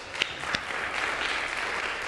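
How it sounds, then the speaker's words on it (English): Congregation applause at a Sunday church service for the worship band, a dense sustained patter of many hands clapping, opening with a few sharp individual claps before settling into a steady wash, with no speech. "Give them a round of applause."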